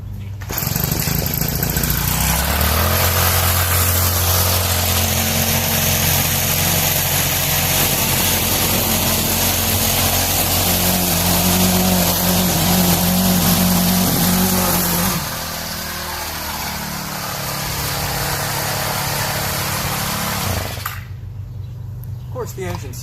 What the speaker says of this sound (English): I'll do a little bit of trimming demonstration for this as well